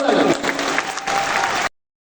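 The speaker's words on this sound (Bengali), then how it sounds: "তোমাদের জন্য একটা জোরে করতালি।" Audience at a university celebration event bursts into loud, dense clapping with some crowd noise, sustained evenly for under two seconds before cutting off abruptly into silence.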